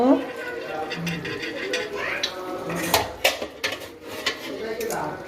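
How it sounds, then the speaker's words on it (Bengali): A lid lifted off a pot of meat bhuna khichuri clinks and scrapes against the metal, with several sharp knocks and rattles mixed with faint kitchen clatter over a few seconds. "এবার আমি আমার এই ঢাকাটা তুলব"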